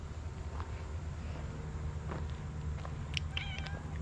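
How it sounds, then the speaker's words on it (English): Cats lounging around a concrete shop installation site give a few short, faint meows near the end, set against a constant low outdoor rumble and wind noise, with no speech. "It's got random cats just chilling."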